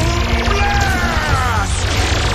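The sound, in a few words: cannon blast explosion effect in Power Rangers episode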